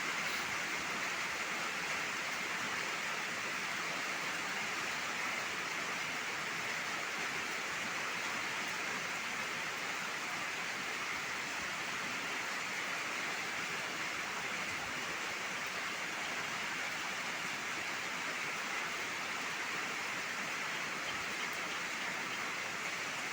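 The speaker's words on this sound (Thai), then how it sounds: "ฝนก็ตกแรงมากนะคะ" Heavy rain pours steadily and loudly for the whole stretch, a dense unbroken hiss with water rushing across a road that cannot drain it fast enough. No voices.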